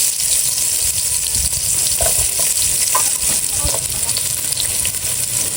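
Onion sizzles in hot oil with garlic in a pan for pancit buko with shrimp and crab, a loud, continuous frying hiss broken by a few stirring scrapes, with no voices.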